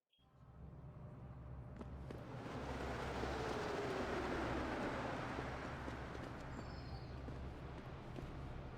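A tram ride in Deus Ex: Human Revolution carries a faint, steady rumble and rail hum that builds up from quiet and then holds evenly, with no voices over it.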